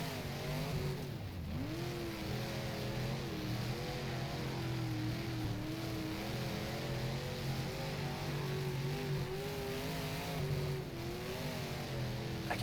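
An IMCA Modified race car in rFactor runs flat out down the straight at Volusia and bounces off its rev limiter. A loud, steady engine drone wavers up and down as the revs cut in and out, with no talking.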